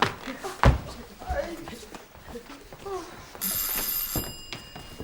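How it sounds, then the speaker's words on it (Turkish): An electronic front doorbell rings steadily through the last second and a half, loud and close, after a door thump and people talking in a Turkish home. "Kapı çalıyor."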